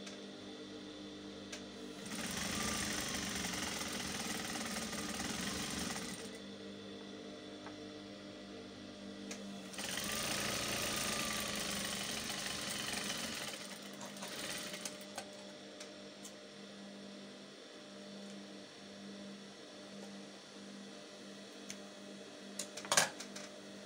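A sewing machine winds thread onto its bobbin in two loud, steady whirring bursts separated by a quieter hum, then a few small clicks near the end, with no talking.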